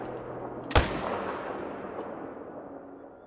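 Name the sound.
rifle gunshots in video game Call of the Wild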